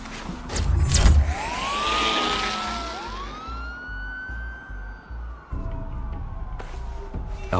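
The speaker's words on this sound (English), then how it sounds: "There are quite a few police cars convening on your location." Police car sirens in the Batman Telltale video game wail and sweep loudly, rising and falling over a low rumbling background, with no talk.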